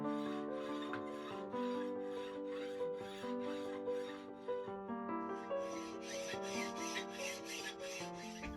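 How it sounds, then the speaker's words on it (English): Steady, repeated rasping strokes of a hand file shape steel shotgun barrel tubes for a best London gun, heard beneath sustained background music. "Robin files and strikes up the tubes to the desired swept-out finished shape"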